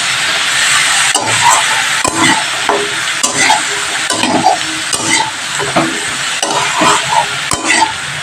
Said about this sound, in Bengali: লাউটা আমি ভালো করে ভেজে নিই